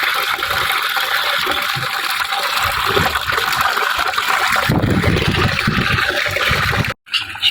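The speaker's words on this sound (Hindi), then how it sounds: "पानी के थोड़ा जिहा ऐड करांगे शीरा।" Molasses is poured into water on a rooftop goat farm, making a continuous loud splashing gush that runs steadily for several seconds before cutting off briefly near the end.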